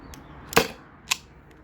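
Byrna SD launcher on a nearly spent CO2 cartridge lets off one weak, sharp snap followed by a second, fainter click about half a second later, close and isolated.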